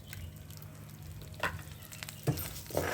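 Urad dal frying in a pan, a soft continuous sizzle with a few sharper scraping or stirring clicks around the middle and end, fairly quiet and close, with no talking.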